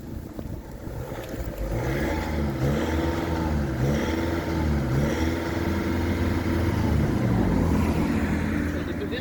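A used car engine is revved repeatedly, its pitch rising and falling in rhythmic waves over a steady idle, loud and close, while someone talks nearby.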